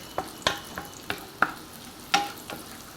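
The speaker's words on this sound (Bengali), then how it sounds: "পেঁয়াজটা একটু ভাজা পর্যন্ত ওয়েট করতে হবে।" Onions frying with beef in a pan crackle softly beneath a regular series of spatula strokes, about two scrapes per second, close and fairly clear.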